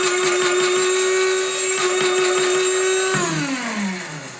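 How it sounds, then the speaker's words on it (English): A small electric coffee grinder grinding spices whirs loudly at a steady high pitch, then spins down as the motor slows toward the end. "We've had this little grinder forever. It's actually a coffee grinder."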